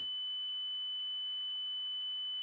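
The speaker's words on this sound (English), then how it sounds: "What is this alarm?" A spacecraft cabin alarm in the Reentry orbital simulator game during a loss of cabin pressure sounds as a steady high electronic tone with faint periodic beeps about every half second, continuous and alone.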